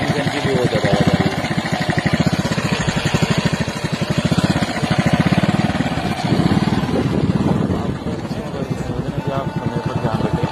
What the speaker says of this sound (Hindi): देखिए टाइमिंग चेंज की भी बहुत ज़्यादा आवाज़ आ रही है